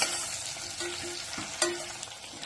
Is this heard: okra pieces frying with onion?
yes